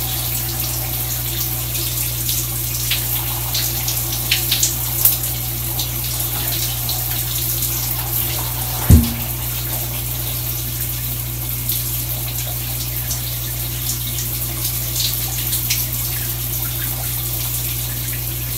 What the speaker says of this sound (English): is splashing cold water in my face in the morning.